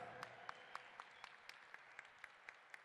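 Applause for cueca norteña traditional dance couple, faint and distant, with sparse individual claps standing out at a steady rhythm over a soft wash of crowd noise.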